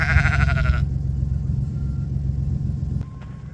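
Sheep on a cold farm morning bleat loudly in a short burst near the start, followed by a low steady rumble and quieter background.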